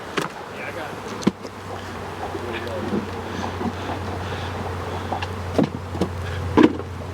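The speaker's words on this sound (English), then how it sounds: "Not as many bees hanging out the front on this one." Honey bees buzz around the entrance of a backyard beehive outdoors, a steady faint hum with a low drone underneath and occasional louder passes as single bees fly close, plus a few soft clicks and handling noises.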